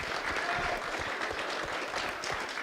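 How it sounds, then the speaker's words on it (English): Audience applause at a life sciences investment summit finale: a dense, steady wash of many hands clapping, fairly close and even in level throughout, with no talk over it. "I think a round of applause is due for that."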